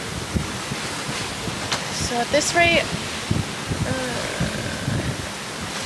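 Wind rushing and ocean waves wash steadily around a sailboat under way single-handed, with someone talking over the broad noise throughout.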